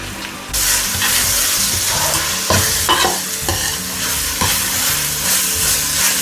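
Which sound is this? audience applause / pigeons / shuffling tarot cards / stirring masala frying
stirring masala frying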